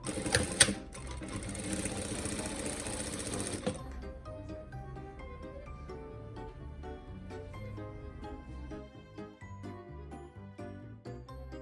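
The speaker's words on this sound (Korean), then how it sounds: "안쪽 면과 안쪽 면이 서로 만나도록 이렇게 해서 쭉 박아주겠습니다" A sewing machine stitches fabric for a DIY eco-bag, giving a dense, fast whirring run for about four seconds, then lighter, ticking mechanical clicks and taps that run on and off, close by, with no talk.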